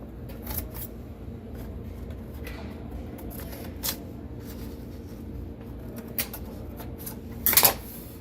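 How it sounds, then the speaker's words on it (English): Scissors snip and crinkle butcher paper while lining a soap mold, a quiet, close run of scattered cuts and paper rustles ending in a brief louder crumple as the paper is folded down. "I'm going to cut straight down here just to the top of the mold so I can fold this paper down"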